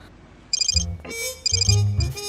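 A phone ringtone plays two bright, rapid trilling bursts over a low, musical backing, loud and near.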